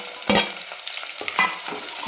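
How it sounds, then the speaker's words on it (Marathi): Chopped onion fries in hot oil tempering for a spicy mutton and pumpkin curry, with a constant sizzle broken by two or three sharp scraping stirs of a spatula in the pan and no voices. "तर कांदा जरा तांबूस कलरवर परतून घेऊ."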